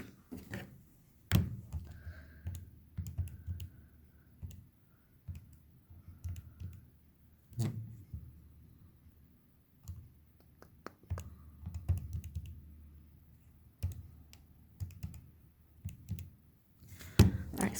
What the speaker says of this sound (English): At this point, you just type it into a calculator or into Desmos and get the answer.